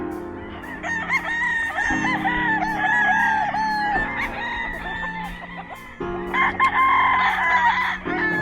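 A Gilmore gamefowl stag crows loudly and close on a farm in the morning, several long crows running one after another, with other roosters calling nearby.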